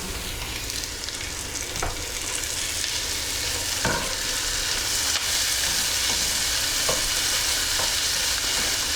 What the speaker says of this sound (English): These onions now started to caramelise really well. So the next thing we need to do is we add in our butter.